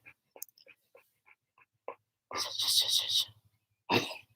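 A burst of harsh coughing follows a run of soft, scattered small sounds, then one more sharp cough near the end; close and fairly loud.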